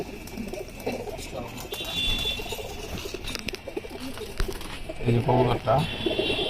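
Pigeons coo and shuffle in a loft of racing and flying birds, a busy murmur of calls close by under someone talking.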